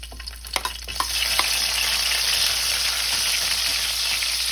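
Garlic and onion sauté in hot oil in a pan for Filipino squid adobo, a steady broad hiss with a few sharp clicks of spoon against pan near the start, close and fairly loud, with no voices.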